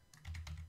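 Quiet, close computer keyboard typing: a brief cluster of several light key clicks in quick succession, with no voices.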